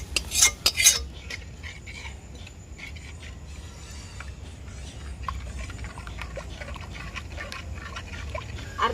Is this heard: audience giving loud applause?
no